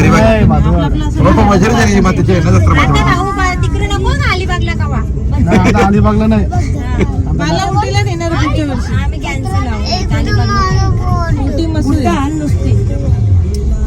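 A crowded village temple fair for the goddess Vajreshwari at Bhajadgaon fills the air with a dense, loud hubbub of voices and passing vehicles. A person talks nearby over the continuous crowd noise.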